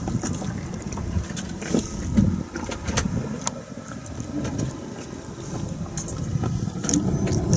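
A Dana 24 sailboat under way toward Pender Harbor on a cruise, with steady wind rushing over the microphone and water swishing and slapping against the hull, continuous and close without talk.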